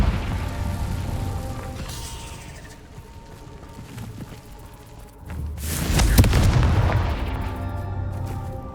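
Confringo fire spell blasts in Hogwarts Legacy ring out as deep booming bursts with crackling, one around two seconds and a louder, longer explosion near six seconds amid game sounds.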